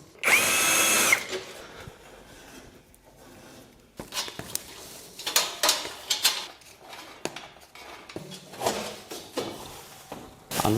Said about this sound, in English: unscrew all the bolts which holds the frame together and disassemble the frame